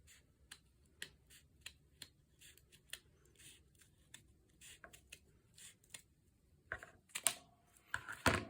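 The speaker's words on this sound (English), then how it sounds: "And now we just cut that arch out." Scissors cutting an arch shape out of paper for a junk journal craft, a series of sharp, close, separate snips in an irregular rhythm that grow busier toward the end.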